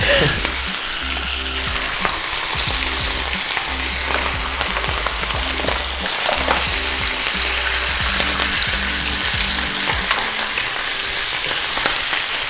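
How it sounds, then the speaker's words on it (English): Loud, steady sizzling of food frying in a pan, continuous and close, with faint scraping and clinks underneath. "Nice and sizzling."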